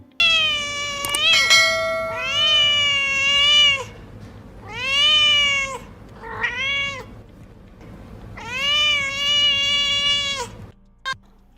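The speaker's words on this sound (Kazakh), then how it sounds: "Бұл мысық. Мяу, дейді." A cat meows loudly and close by, about five drawn-out, rising-and-falling calls separated by short pauses.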